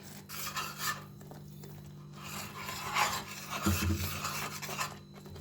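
Desiccated coconut stirred into milk in a pan, a steady rasping scrape of a spoon against the metal, moderately quiet and close, with irregular strokes throughout.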